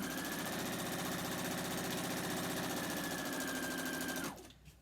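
A sewing machine runs steadily while stitching quilt fabric pieces together, a fast even close whirring hum that stops abruptly near the end, with no talk.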